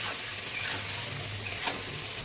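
Cut eggplant seasoned with turmeric and salt is stirred in a hot pan, giving a close, steady sizzle with soft scraping strokes throughout.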